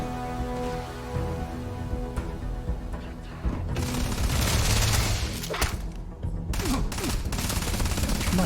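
Rapid gunfire from a firefight in the space game Starfield, steady bursts of shots layered with music-like tones, growing louder and more chaotic midway with heavier impacts.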